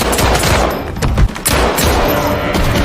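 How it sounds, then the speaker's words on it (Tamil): Loud film gunfight between two people: dense bursts of rapid gunfire and sharp shots crack without a break, with brief gaps between volleys. "திரும்ப அவங்க 2 ஆட்களுக்கு இடையில துப்பாக்கி சூடு நடக்குது."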